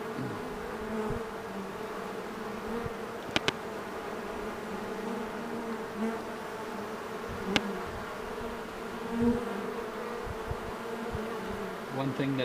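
A swarm of honey bees flies around outdoors during a swarm capture, making a steady, dense buzzing drone throughout with a few faint clicks, heard from within the swarm.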